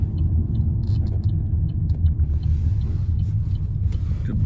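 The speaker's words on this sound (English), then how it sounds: "Now we drive over the bridge." A car drives over a bridge in Norway, a steady low road rumble and engine drone running close and even throughout with no talk.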